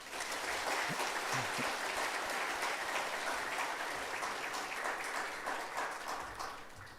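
Church congregation applauding the orchestra at a Christmas service: a steady, even wash of many hands clapping, sustained for several seconds at moderate distance with no talk, easing slightly at the end.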